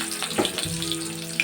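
Garlic and onion sautéing in hot oil for a dry prawn chutney, a brief close crackling sizzle with a few sharp pops and stirring touches, no talking.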